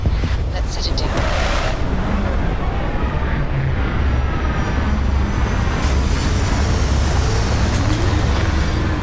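A spaceship sets down in the game Starfield, a steady loud roar of engine rumble and rushing wind running unbroken throughout, with a faint rising whine near the end.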